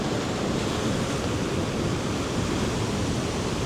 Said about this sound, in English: the waves are spectacular